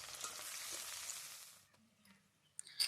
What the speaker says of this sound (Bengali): পেঁয়াজ কুচিগুলো দেওয়ার পরে আমি কিছুক্ষণ ভালো করে ভেজে নেব